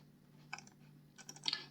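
A computer keyboard gets a few faint, quiet key presses for a shortcut, a couple of soft clicks heard over a low electrical hum.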